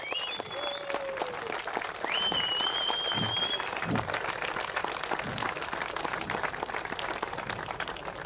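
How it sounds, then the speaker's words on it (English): A crowd applauds Slovakia for second place at the prize ceremony of a European float fishing championship, with steady, continuous clapping, a few whistles early on, and faint voices beneath. "Big applause, congratulations, the second place of this tournament, Slovakia!"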